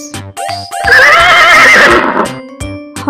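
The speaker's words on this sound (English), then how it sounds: "Horse," A horse lets out one loud, long, wavering neigh that rises and trails off over light background music.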